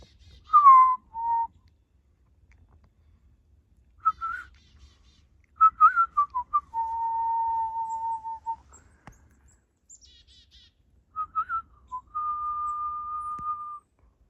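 A chickadee gives a series of clear whistled calls, some falling two-note phrases and some long steady tones, close and bright against a quiet background.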